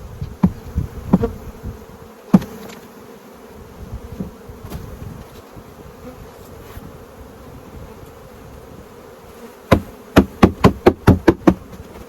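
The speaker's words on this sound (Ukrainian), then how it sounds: "Струшуємо на рамки." A dense buzzing of bees hums throughout as they are shaken onto hive frames, broken by a few dull knocks early on and a quick run of sharp taps near the end.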